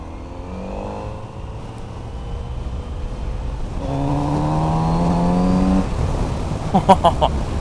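Kawasaki Z900RS motorcycle engine heard while riding, a steady droning hum that rises in pitch as it pulls through a gear, with wind rush underneath and a few faint clicks near the end.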